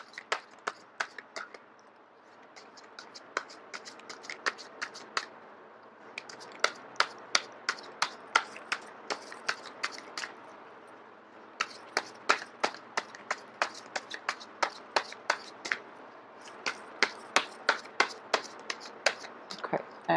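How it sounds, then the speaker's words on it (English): Tarot cards are shuffled by hand up close, in bursts of rapid, crisp slapping flicks with short pauses between runs, and no voices. "I am going to shuffle until the first card drops out."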